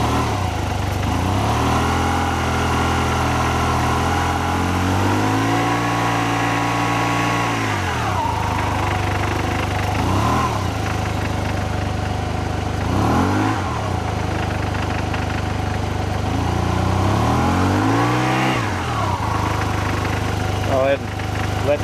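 A scooter engine with its variator idles close by in a steady low hum, rising in several distinct throttle revs that swell and fall back to idle, with no voices over it.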